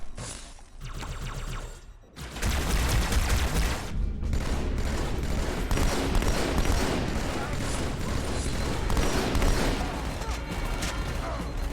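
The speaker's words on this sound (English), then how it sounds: "The sound design has even been enhanced, with digitally remastered voice lines and completely new sounds for weapons and vehicles" Remastered Halo weapon fire from a video game, a dense, continuous barrage of loud gunfire and booms after a brief lead-in, sustained right to the end.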